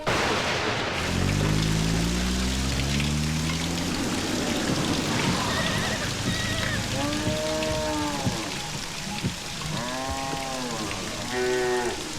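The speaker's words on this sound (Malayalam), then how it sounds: "മഴ വരാൻ പോണ്ടല്ലോ, ഇനിയിപ്പോ എന്താ ചെയ്യാ?" Steady rain falls with a dense, even hiss and patter, continuing beneath voices that talk over it.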